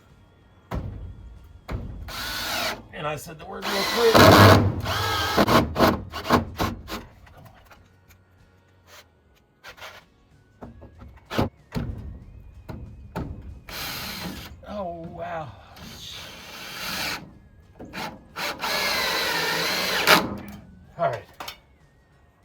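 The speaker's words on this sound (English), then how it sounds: "So I just put 4 screws in here real quick" A power drill drives four screws into wood to mount a piece for hanging, with whirring bursts and ratcheting clicks coming close up in two main spells, while a person talks in between.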